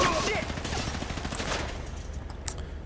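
Heavy pistol gunfire from GTA 5 with the Business Pack weapons, a rapid stream of loud, close shots that crack and boom over a dense game soundscape, and a voice talks faintly in between.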